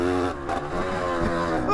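A dangerous vintage dirt bike with a mild steel chassis, its engine revving continuously while being ridden, a loud buzzing drone whose pitch wavers and climbs.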